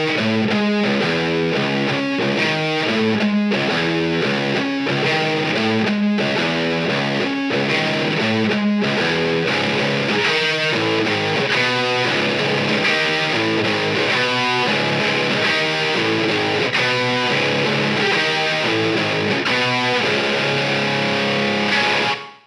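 Distorted electric guitar playing the intro and main riff of a song, a loud, chugging, rhythmic riff with sharp repeated palm-muted stabs and steady pulses, heard alone without talk for over twenty seconds and cutting off abruptly.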